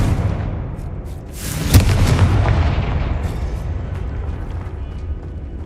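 A Confringo fire-spell explosion in Hogwarts Legacy gameplay on Xbox Series X, a heavy booming blast that rises out of a dense rumbling wash of game noise and then rolls away into a sustained roar.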